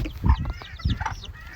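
Old English chickens give a few short clucks close by, with some young hatchlings among them and no talk.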